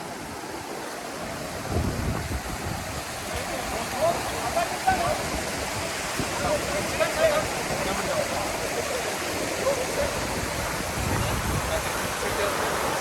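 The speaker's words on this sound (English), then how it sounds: "The stream flows between two mountains." A mountain stream rushes between two mountains near Wagamon, giving a steady, close, broadband wash of flowing water with some wind buffeting the microphone and no pauses.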